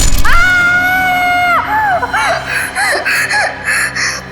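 A woman screams in fear, with long piercing shrieks up front followed by shorter broken cries and sobbing wails, loud and close throughout.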